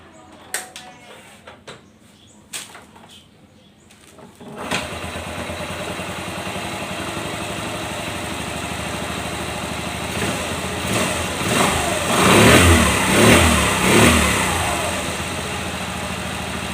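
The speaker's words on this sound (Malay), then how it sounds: "Okay kan, motor sekali start ya, tak ada masalah, cun gila." A freshly restored motorcycle running a 12-volt ignition coil, heard after a few soft clicks: the engine fires, settles into a steady close idle, then revs up loudly in surges before easing back.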